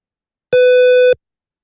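A synthesized harmonic tone plays in a lecture: one steady electronic note with clean overtones, lasting about half a second, loud and alone, starting and stopping abruptly.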